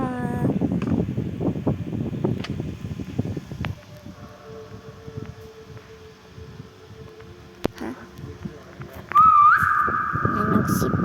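A person whistles a brief rising tune near the end, after stretches of rustling, background voices and outdoor noise.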